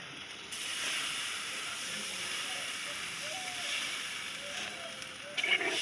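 Water poured into a hot pan for a fish curry hisses into steam, a steady broad hiss that starts abruptly and holds for several seconds before a faint clatter at the end.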